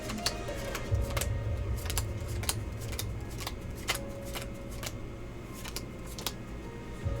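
Playing cards are dealt low across a table for Pai Gow poker, a quiet run of crisp snaps and slides in quick irregular succession.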